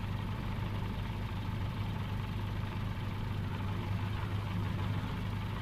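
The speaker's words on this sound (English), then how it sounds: "Pardon me if I turn the in-game engine sounds down" A car engine idles steadily in a video game, a constant low rumble with a strong hum that holds evenly throughout at moderate level with no other sounds.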